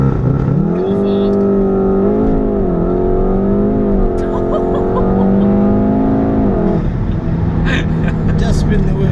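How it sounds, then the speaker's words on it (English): A 400 bhp APR Stage 2 tuned VW Golf R Estate makes a launch control start, its engine droning loudly and rising in pitch through the gears from inside the cabin, with a brief spoken word near the start. "launch control time, in a 400 brake."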